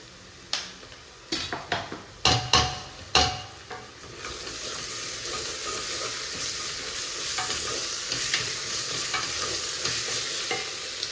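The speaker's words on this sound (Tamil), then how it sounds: "இஞ்சி கொஞ்சம் பேஸ்ட்டு மட்டனுக்கு நான் போட போகிறேன்" Mutton with ginger paste in a pan for dum biryani: several sharp scraping stirs and clinks in the first seconds, then a steady, close sizzle of frying that swells and continues alone.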